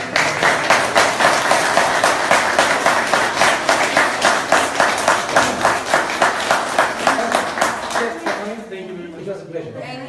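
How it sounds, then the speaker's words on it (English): Audience applause for speakers at the close of a debate event: a crowd claps in a steady rhythmic beat, loud and close, then thins out and fades as a voice begins talking near the end. "I think first of all a round of applause for our speakers."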